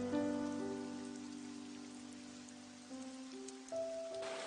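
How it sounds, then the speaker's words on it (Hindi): Steady rain falls in a Doraemon cartoon scene, a soft continuous hiss beneath gentle sustained musical tones that shift pitch a few times. No one speaks. "लगता है ये बारिश अभी रुकेगी नहीं।"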